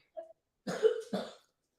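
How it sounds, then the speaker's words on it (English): A person coughs twice in a quiet room, two short harsh bursts preceded by a faint small vocal sound. "You can't just walk around coughing everywhere."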